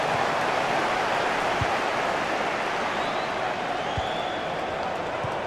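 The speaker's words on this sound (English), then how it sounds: "And the crowd really enjoying it." A FIFA 17 stadium crowd applauds and cheers as a broad, steady roar at a soccer match, loud and continuous, with commentary voices faintly mixed beneath.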